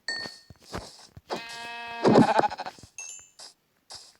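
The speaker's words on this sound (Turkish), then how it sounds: "Koyun bizim için aşırı önemli." Sheep in the Minecraft survival video game bleating several times in short, nasal, harmonic calls with brief pauses between them, clear and close with no talk over them.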